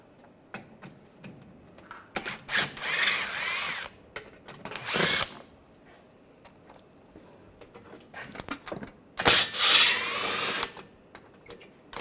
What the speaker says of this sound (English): Remove this under shield. Use a 10 millimeter socket. Take these bolts out.